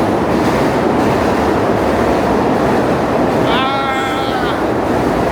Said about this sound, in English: I got on the Uptown train